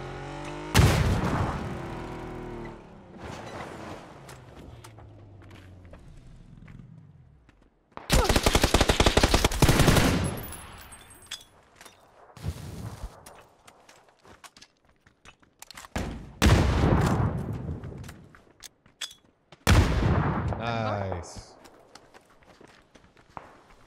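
Gunfire in PUBG on the Miramar map, loud bursts of automatic fire and single shots arriving in separate clusters with quiet gaps between them, some near and some farther off, with footsteps running in between.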